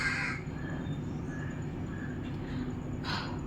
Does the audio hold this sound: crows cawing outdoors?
yes